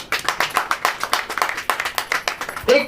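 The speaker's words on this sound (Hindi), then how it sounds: "ताली बजाइए।" A church congregation claps along during a sermon, a steady run of rhythmic hand claps, close and fairly loud, ending with a brief voice.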